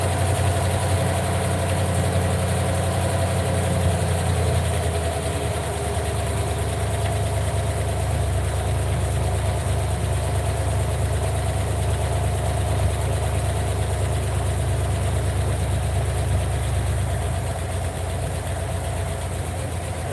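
A Ford F150 engine idles steadily after valve cover work, running rich with a loping rumble that sounds cammed. It is loud, continuous and close, with no talk over it.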